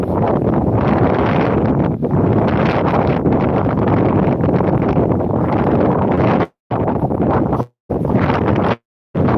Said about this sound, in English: I know it's a bit difficult to hear because of the wind.